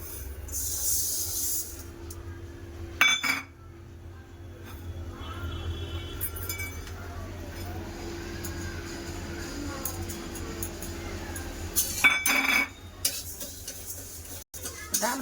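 Moong dal dry-roasting in a hot karahi, stirred with a utensil: a steady, close scraping and rustling texture runs throughout with a faint hiss, broken by a few louder clatters of the spoon against the pan.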